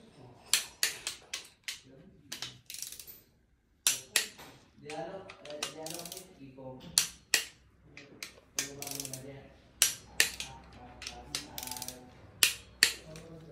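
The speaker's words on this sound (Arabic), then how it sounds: "البراغي الجانبية أول شيء بيكونوا 15 نيوتن، أول شيء شدهم 15 نيوتن" A hand ratchet tightens the side bolts on a Range Rover 4.4 8V diesel engine to 15 Nm. Quick bursts of sharp, close clicking repeat with short pauses between strokes.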